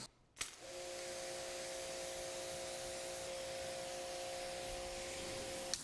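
A steady spray of rinse water hissing over a freshly waxed car, starting after a brief click and running continuously at moderate level, with a faint tonal whine underneath.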